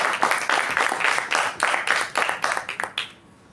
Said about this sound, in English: With a huge round of applause, let's welcome Toastmaster Tanmay onto the stage.